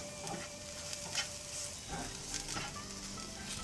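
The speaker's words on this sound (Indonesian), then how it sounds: "lalu tumis bawang putih dan jahe" Garlic and ginger sautéing in a pan, a faint, steady hiss of frying with a few soft stirring scrapes, quiet and even throughout, no talking.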